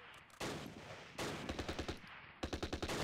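Bursts of machine-gun and rifle fire in the wartime strategy game Close Combat, rattling in several rapid volleys with short pauses between them, loud and heard alone without talk.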